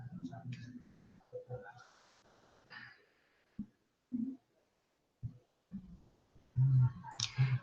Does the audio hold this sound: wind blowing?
no